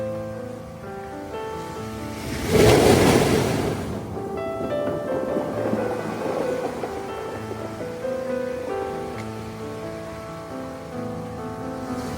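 Strong sea waves before an approaching typhoon: one loud wave crashes near the start, then the surf settles into a softer, ongoing wash with a faint musical tone underneath.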